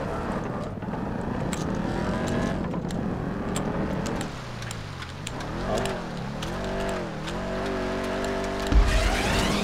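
A game car in a GTA 5 parkour race revs and drifts, engine pitch climbing then dipping and swooping as it slides, loud and continuous with a sharp thump near the end.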